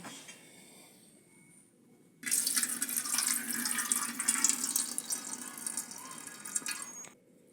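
Water drained from washed wheat-flour dough pours out in a steady splashing stream for several seconds, then stops abruptly; close by, with quieter trickling before and after.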